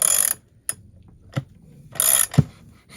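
Ratcheting crank on a crankshaft puller draws a Stihl 044 Magnum chainsaw crankshaft into its crankcase bearing, giving several separate close clicks and short metallic bursts with quiet gaps between them.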